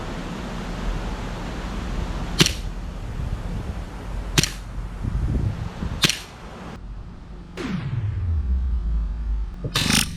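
Airsoft gun firing G&G 0.25 gram BBs, four sharp isolated snaps spaced a couple of seconds apart over steady outdoor background noise, with a falling whoosh after one shot.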